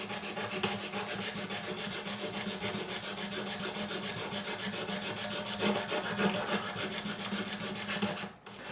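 Crud scraped off a Yamaha FG403-MS acoustic guitar produces a continuous close rubbing rasp, steady in level with a brief drop near the end and no voices.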